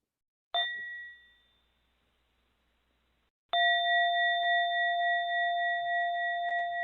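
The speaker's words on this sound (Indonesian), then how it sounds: "perlahan Anda akan mendengarkan suara bel" A mindfulness bell rings twice, close and clear: a single bright strike that fades within a second or so, then after a pause a second strike that sustains steadily with a gentle wavering shimmer.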